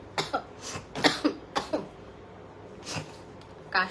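A person coughs repeatedly in short, dry bursts, several quick coughs followed by a pause and a couple more, close and fairly quiet, with no talk over it.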